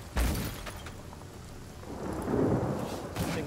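Rain patters steadily in the video game Divinity: Original Sin while a low thunder rumble swells and rolls beneath it, fairly faint and distant, with a few sharper crackles.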